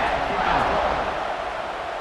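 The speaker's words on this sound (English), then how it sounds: "this crowd is buzzing after that last score" A stadium crowd in EA Sports College Football 26 keeps up a broad, steady roar after a score, with a commentator talking over it.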